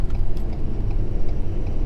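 A 2017 Ford 6.7 Powerstroke diesel truck towing 30,000 lbs rumbles steadily on its way onto a highway, a loud, continuous low engine and road drone with no talking.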